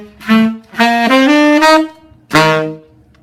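A tenor saxophone plays a phrase from a middle school all-state jazz etude, three separate bursts of full, buzzy notes with the pitch climbing and the dynamics pushing upward, close and loud with no talking.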